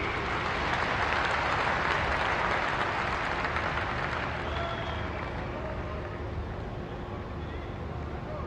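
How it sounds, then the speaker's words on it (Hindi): Loud audience applause during a postage stamp unveiling by the Prime Minister at a development-project event in Katra, Jammu and Kashmir, a dense steady clapping that holds throughout, with faint voices beneath. "आपकी जोरदार तालियों के बीच"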